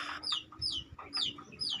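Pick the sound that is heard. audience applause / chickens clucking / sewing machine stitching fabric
chickens clucking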